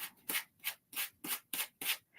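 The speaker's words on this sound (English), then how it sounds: "So I'm using my sander again. And I'm just very lightly." An electric sander lightly sands wood in a steady back-and-forth rhythm, seven soft rubbing passes close by with quiet gaps between.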